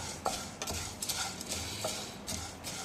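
Peppercorns and spices for a chilli-lemon pickle heating in a dry pan, stirred with light scraping and ticking clicks of the spoon against the metal, soft and close.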